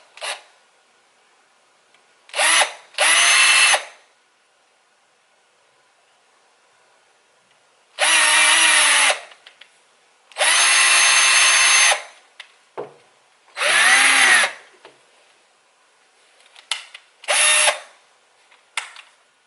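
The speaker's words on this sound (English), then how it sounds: "We don't want to drill too deep." A power drill revs in several short and longer bursts, biting into wooden legs up close, with quiet pauses and small handling clicks between runs.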